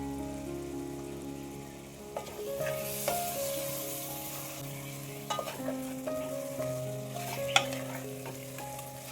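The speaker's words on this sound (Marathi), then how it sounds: "चिकन घालायचं आता लगेच आपण हे मिक्स करून घेऊया चांगलं पळीने वर खाली करायचं" Chicken pieces stirred into hot, sizzling masala with a ladle for a hotel-style chicken rasa, with steady frying crackle and repeated scraping and clinking of the ladle against the pan, close and moderately loud.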